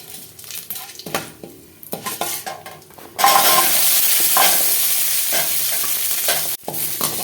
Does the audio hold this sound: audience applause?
no